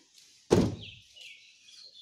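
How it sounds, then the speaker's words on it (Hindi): Maruti Suzuki Ertiga car door shut once with a single solid thunk, close and fairly loud, with faint outdoor bird chirps around it. "अब मैं दरवाज़ा बंद करूँगा"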